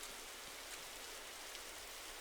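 Steady rain falls across a video game town, a soft, even hiss of drops on surfaces with no breaks, faint and with no voices.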